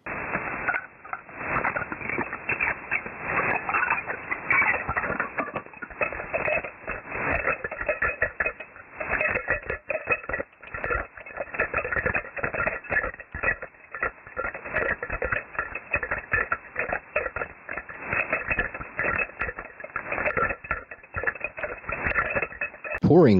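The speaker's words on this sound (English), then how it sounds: "This is what a set of keys sounds like in the SDR Uno software through the setup" Keys jingle in a dense, continuous clatter of rapid metallic chatter, recorded ultrasonically with a MEMS microphone and SDR receiver, shifted down and heard through a narrow, radio-like band.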